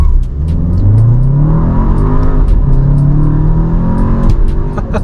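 A 2021 VW Atlas SE SUV engine revs and roars as it accelerates hard from a stop in sport mode, pitch climbing steadily through the gears, loud and close, with brief wheel spin.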